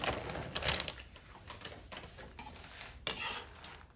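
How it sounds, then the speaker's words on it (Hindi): Panjiri roasting in a pan with almonds and makhana in a little ghee, giving soft irregular scraping, stirring clicks and faint sizzling, close and fairly quiet. "ये देखो भून रही है मेरी पंजीरी, बादाम भी भून रहे हैं साथ में"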